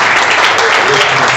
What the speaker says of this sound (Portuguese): Aplauda bem forte ao Senhor que está